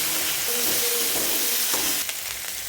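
Ivy gourd stir-fry (kovakka upperi) sizzling steadily in a pan on low heat, a continuous close frying hiss with faint stirring scrapes and no voices.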